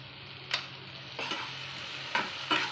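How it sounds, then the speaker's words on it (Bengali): Chilli garlic paste frying in oil in a pan for shrimp pickle, a quiet even sizzle under a low hum with a few distinct stirring scrapes spaced apart, no voices. "এটা একটু ভেজে নেব। আমি লঙ্কা রসুনের পেস্টটাও দিয়ে দেবো।"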